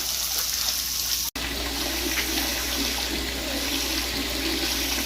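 Water pouring and draining steadily from a tilapia biofloc pond, a continuous broadband rush with a brief drop out partway through, heard close and fairly loud without talk.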